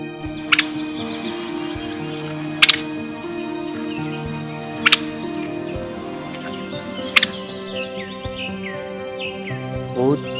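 A woodpecker in a forest, heard as a few sharp, isolated knocks spaced a couple of seconds apart over a steady chorus of chirping birds and insects.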